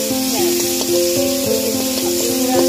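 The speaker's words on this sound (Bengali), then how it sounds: "আদা রসুন বাটা দেন না, দিয়ে ভালো করে নেড়ে নেবে দেখি।" Ginger-garlic paste frying in a pan while being stirred, a loud close sizzle with a rhythmic series of spatula scrapes and clinks throughout.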